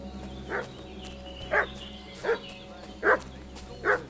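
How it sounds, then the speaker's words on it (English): Dog barking in the video game Kingdom Come: Deliverance 2, five separate sharp barks spaced about a second apart at moderate distance, heard over a steady low ambient hum with no speech. "What's that dog making such a fuss about?"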